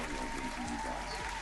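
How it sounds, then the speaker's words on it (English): A stream audience claps steadily for about a second and a half, a dense continuous patter of hands with faint scattered voices underneath. "Alright, enough clapping."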